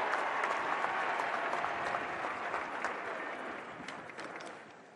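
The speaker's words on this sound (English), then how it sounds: "Let's hear it for UGA President Jerry Moorhead" Stadium crowd at a Georgia Bulldogs championship ceremony in Sanford Stadium applauding the UGA president, broad sustained clapping and cheering from a large distant crowd that slowly fades.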